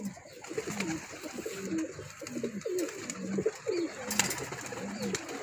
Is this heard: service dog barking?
no